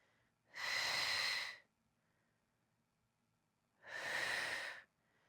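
Two long, loud breaths during a Pilates mat exercise focused on the outer hip, each a broad airy rush lasting about a second, separated by a quiet gap, close and alone with no talk.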